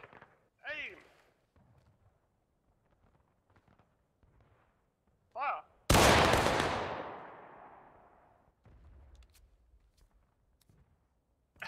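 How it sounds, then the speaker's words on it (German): A sudden loud crack and long rolling roar of a massed musket volley fired by the enemy line in the Civil War shooter War of Rights at Bolivar Heights, with a few faint pops after it, while people speak before and around it. "Feindfeuer!"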